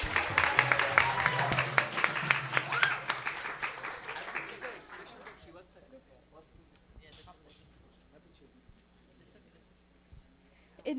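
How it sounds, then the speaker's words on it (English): Audience applause for the ISV kids at a Vyasa Puja celebration, strong clapping for several seconds that thins out and fades, leaving a quiet room with scattered faint sounds. "Let's give them a big round of applause."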